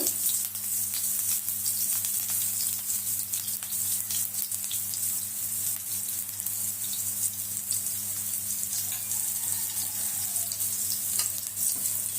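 Prawn vada frying in shallow oil in a pan, a steady close crackling sizzle with fine popping and a low constant hum underneath throughout, no talking.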